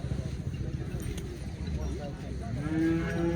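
At a cattle market in Vavi, Sinnar, a cow lets out a long low moo near the end, over a busy crowd murmur and people talking nearby.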